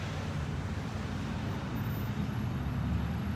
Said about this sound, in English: Whether it's the sound of cars like I'm hearing